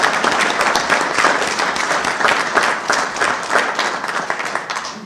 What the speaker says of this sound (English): the gallery and council are clapping for you